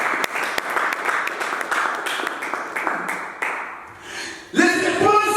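A church congregation applauds and cheers in praise of Jesus, with a dense run of clapping and taps that shifts to a brighter, louder burst of cheering toward the end.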